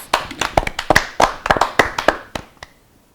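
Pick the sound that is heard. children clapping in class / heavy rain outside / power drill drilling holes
children clapping in class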